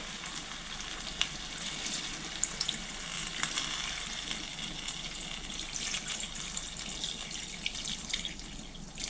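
Water is added to a pan of browned meat and cream while cooking shukhnudli with meat and potatoes. It gives a faint, steady pouring and sizzling hiss with a few small splashes and drips.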